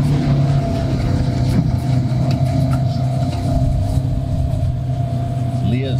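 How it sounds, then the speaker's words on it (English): A Ranger utility vehicle drives through woods, its engine giving a steady, loud drone with a low hum that runs without a break from start to finish. "we'll get in the Ranger and drive over there and look"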